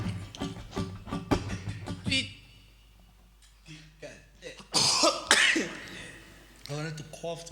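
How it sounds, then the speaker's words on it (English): Someone coughs several times in a quick burst, followed later by more rough coughing and throat clearing, close to the listener. "I wanted to cough so bad"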